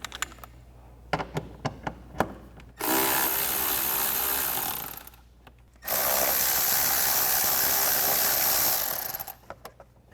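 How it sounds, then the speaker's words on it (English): A 10mm socket works loose the clamp and bolt on a K&N Series 57 cold air intake: a few crisp ratcheting clicks, then two long, loud, steady mechanical whirring runs, close and alone. "Next we can take a 10mm socket to loosen up our clamp as well as remove this bolt."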